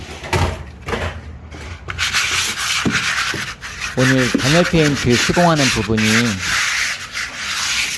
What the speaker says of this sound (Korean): 지금 보시면 사포질을 하고 있는데요.